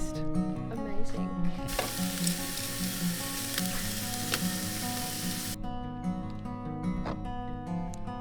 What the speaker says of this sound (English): We're just gonna cook it up in some butter and garlic